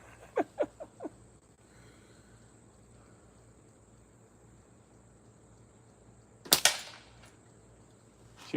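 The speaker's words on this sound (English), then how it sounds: "Shooting at a can through a little bit of scrub blowing in front of it." Slingshot shots at a can through blowing scrub outdoors: a quick cluster of three or four sharp snaps, a quiet stretch, then a louder double crack, all close and against faint background hiss.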